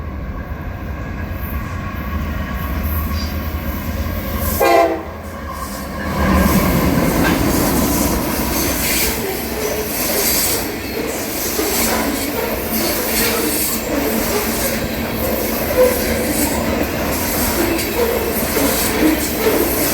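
A train rolls past close by on the Lehigh Line in Bound Brook, New Jersey, bound for Cumberland, Maryland: a heavy rumble with rhythmic clickety-clack of wheels over rail joints and occasional squeals, continuing steadily throughout.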